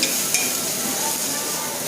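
Onion-tomato masala for a Malvani fish curry sizzles and hisses steadily in a hot pan, close and fairly loud, with a couple of soft clinks as ingredients go in.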